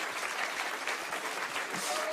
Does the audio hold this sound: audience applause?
yes